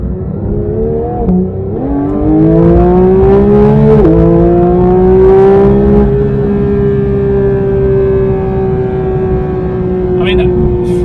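A 2022 Porsche GT3 accelerates hard from inside, its engine note climbing loudly through rising revs with gear changes breaking the pitch, then holding a high sustained wail.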